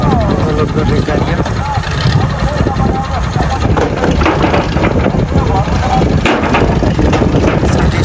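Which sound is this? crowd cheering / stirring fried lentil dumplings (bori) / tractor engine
tractor engine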